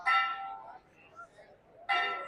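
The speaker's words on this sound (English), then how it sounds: "it's time for the bell tower to go off, obviously" Church bell tower in the old town of Kotor, Montenegro, rings two clear, moderately loud strikes about two seconds apart, each ringing out and fading over faint street background.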